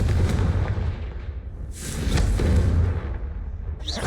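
Fiery Confringo spell blasts in Hogwarts Legacy, a loud booming burst followed by a rumbling roar and a second sharp crackling hit near the end, with no talking.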